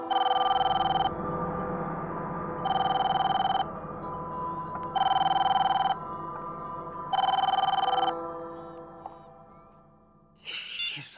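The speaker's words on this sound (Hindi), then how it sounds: "फोन क्यों नहीं उठा रहा है?" An unanswered telephone rings in four repeated electronic bursts with pauses between them, moderately loud and close, fading to quiet before a brief rustle at the end.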